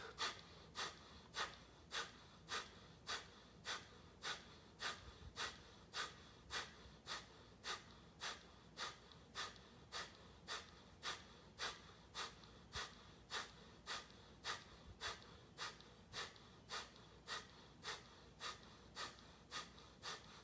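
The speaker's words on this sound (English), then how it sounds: "forceful exhales, keep it up" Forceful rhythmic exhales during breathwork, sharp regular bursts of breath about every second, repeated steadily and close throughout with no talking.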